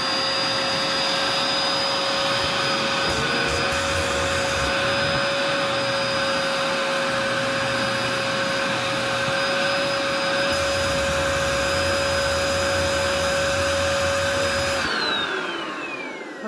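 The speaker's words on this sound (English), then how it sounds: "So here I have a little vacuum cleaner with the hose unattached." A small household vacuum cleaner with its hose detached runs steadily and loudly, a constant motor whine with a strong tonal hum, then powers down near the end with a falling pitch.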